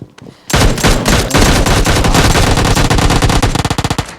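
Automatic gunfire, an M416 rifle in the PUBG Mobile Lite battle royale game, erupts after a brief quiet into a loud, sustained rapid burst that breaks into distinct separate shots near the end.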